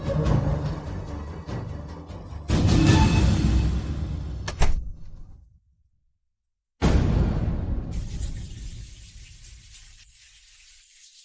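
Shower water running in a bathroom, a loud steady hiss that cuts off to silence midway, then gushes again and slowly tapers, with no voices.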